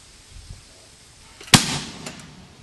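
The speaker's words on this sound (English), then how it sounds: "Hit your button again to allow the bumper to fire and shut off." A Thunder Equipment launcher fires a training bumper with one sharp, loud pop followed by a brief hiss and fading tail, after quiet background.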